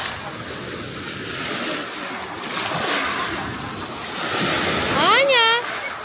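Sea waves wash onto a beach on the Georgian coast in a steady, surging roar with some wind noise, while a voice calls out briefly near the end.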